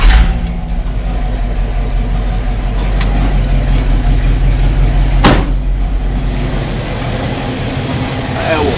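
A 1969 Chevy engine cranks and fires, settling into a loud, steady low rumble close by with a sharp clunk midway, as a mechanic prepares to set ignition timing.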